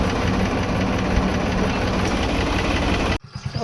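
A tractor engine runs with a steady, loud, low rumbling idle and knock for about three seconds, then cuts off abruptly into quieter clatter.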